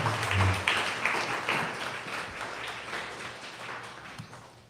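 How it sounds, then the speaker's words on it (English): Audience applause at an evening design talk and meetup, a fairly soft patter of clapping that is strongest at the start and fades gradually toward the end, with no one speaking over it. "Let's give Michael a round of applause."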